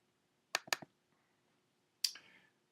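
Two or three quick, sharp computer mouse clicks on a course web page link, then a brighter single click a moment later, close and crisp in an otherwise quiet room.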